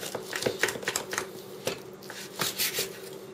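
Knife slicing through cool smoked mesquite brisket, a string of short crisp cuts and scrapes on a board with irregular rhythm, close and moderately quiet.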